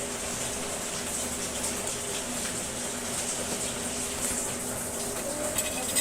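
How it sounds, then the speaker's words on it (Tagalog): Heavy rain keeps falling on a cold, stormy typhoon day, a steady broadband roar and hiss with no breaks, close and continuous throughout. "Lakas ng ulan."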